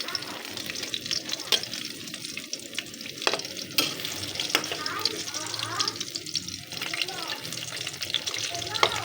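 Bananas fry in hot oil with a continuous crackling sizzle, close and busy, alongside occasional clinks of a utensil.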